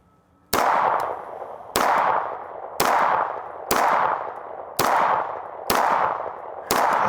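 Kimber 2K11 Eclipse pistol firing with Prodigy magazines, seven sharp loud shots spaced about a second apart, each with a ringing echoing tail, no voices.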